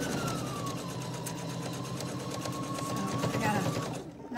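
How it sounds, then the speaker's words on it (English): A home sewing machine stitches a reading pillow on an ordinary table, running steadily and close up with a continuous buzzing hum for about four seconds before it slows and stops. "I'm sewing on a table, so it's kind of bouncing all around here today as I try to sew faster"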